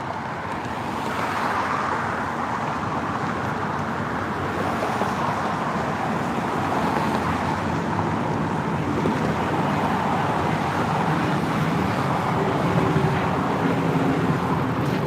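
Steady street traffic in Washington DC, a continuous broadband roar of cars rolling past at moderate distance, even and unbroken throughout with no voices.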